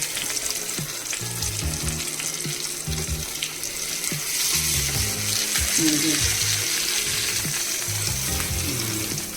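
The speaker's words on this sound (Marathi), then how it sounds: "आता 5 मिनिटात ते चांगले भाजून घ्यायचे" Stuffed bangda mackerel, Malvani style, frying steadily in a pan, with a continuous close sizzle and occasional soft clinks of utensils.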